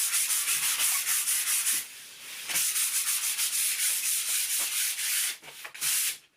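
A hand rubs back and forth over a primed MDF surface, giving steady close scratchy friction strokes that pause briefly near the two-second mark and again toward the end.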